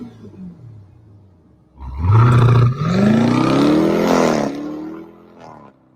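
Engine of a Ford Bronco SUV making almost 800 horsepower, a loud close rumble that surges into a rising roar as it accelerates, then eases off near the end.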